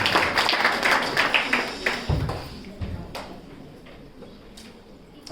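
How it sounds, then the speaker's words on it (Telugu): Church audience clapping to welcome a pastor at a Christmas service, a burst of applause that fades over a few seconds into sparse scattered claps and room noise. "వారిని చప్పట్లు కొట్టి మనం ఆహ్వానిద్దాం"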